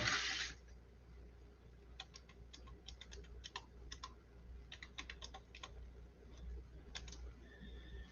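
Keys on a computer keyboard clatter in quiet, irregular bursts of light clicks, faint and close, with short pauses between runs of typing.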